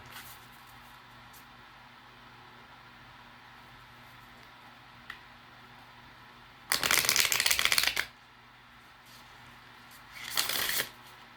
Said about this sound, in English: We're going to shuffle the oracle cards here